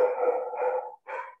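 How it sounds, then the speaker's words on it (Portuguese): A dog lets out a drawn-out howling whine that wavers for about a second, breaks off, then returns in a shorter cry, fairly loud and clear with no voices over it. "Estamos escutando os cachorros também."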